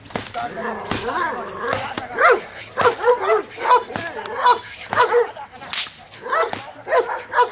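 A dog barks repeatedly during a training session, with a rapid series of sharp barks and yips close by and a few whimpers between them.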